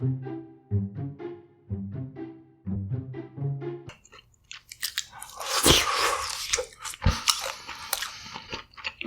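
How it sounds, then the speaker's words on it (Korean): Close, crisp crunching bites and chewing of deep-fried battered shrimp at a mukbang meal, following a short voiced hum at the start, with several loud crackling bites and wet chewing in between. "오늘의 먹방은 바로 칵테일 새우랑 그리고 튀김 새우"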